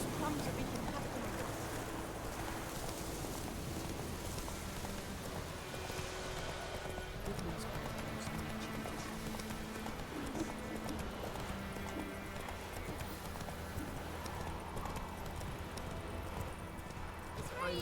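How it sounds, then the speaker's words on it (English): Steady horse hooves clip-clop in The Witcher 3 video game, a continuous trotting rhythm in a dense game soundscape with music and ambient noise, with a voice speaking over it. "Giddy up. Whoa there, Roach"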